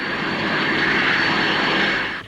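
A Fairey Ultra Light two-seat helicopter hovers near an airfield, giving a loud steady engine and rotor roar that holds throughout and fades slightly at the end, with no talk.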